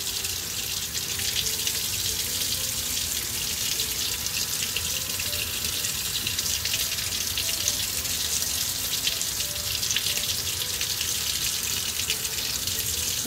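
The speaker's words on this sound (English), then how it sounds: "rinse it off" Glass with vinyl stencil rinsed under a running tap in a sink, a steady close rush of splashing water that continues unbroken throughout.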